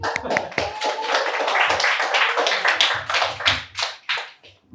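Congregation members at a Korean Sunday church service clap together, a brisk run of sharp, close hand claps that starts loud, thins out and trails off into a few scattered final claps.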